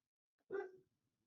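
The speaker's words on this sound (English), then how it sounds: "You may hear my lovely dogs in the background." A single short dog bark, fairly faint and distant, in an otherwise quiet background.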